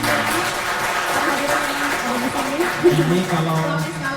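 Steady applause from an audience at a vocational education event, continuous clapping with voices mixed in throughout.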